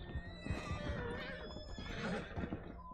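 A horse whinnies and neighs loudly over steady game ambience, with faint hoof sounds mixed in.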